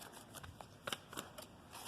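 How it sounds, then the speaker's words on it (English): Soft, scattered tarot card shuffling at low volume, with a few faint slaps and rustles spread across the moment and no voices. "One more shuffle."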